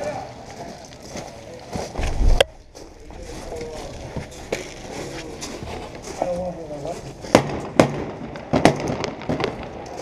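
Airsoft gunfire during a milsim battle in an urban setting, with sharp cracks and short bursts scattered across the scene at mid distance, heard beneath people talking and moving.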